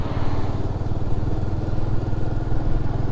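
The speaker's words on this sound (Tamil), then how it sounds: "ஆனால் எக்ஸாஸ்ட் சவுண்டு பார்க்கணும்" A motorcycle exhaust rumbles loudly and steadily up close, a deep, throbbing engine note that holds for a few seconds with no voices over it.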